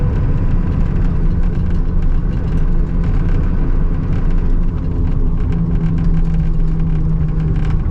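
A 1996 Ford F250 with a 7.3 Powerstroke diesel drives along with a loud, continuous low engine rumble and road roar. A subtle shift in pitch comes partway through as the transmission changes gear, and no one talks over it.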